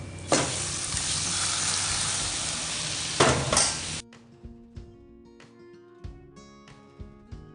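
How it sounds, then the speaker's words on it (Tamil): Hot tempered kuzhambu gravy goes into mashed rice for Navarathri kadhamba saadam, bursting into a loud sizzle for about four seconds, then giving way to quiet, scattered clicks and squelches of mixing. "அதுக்கப்புறம் நம்ம குழம்பு எடுத்து ஊற்றிக்கணும்"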